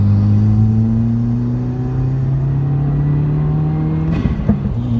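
A 2017 Subaru WRX fitted with an Accessport accelerates hard onto a freeway, its engine droning loud and steady from inside the cabin with rising tone, then a few sharp pops and crackles near the end.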